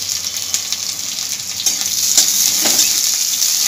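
Chopped onion frying in oil in a pan, a steady close sizzle with occasional scrapes of a spatula stirring, growing slightly louder toward the end.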